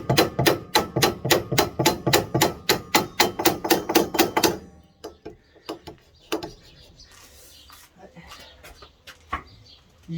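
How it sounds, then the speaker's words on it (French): A hammer strikes a part on an imported American car in a rapid, steady run of about twenty loud metallic blows, then stops, leaving scattered clanks and workshop noise. "Je vais essayer en tapant avec un marteau là."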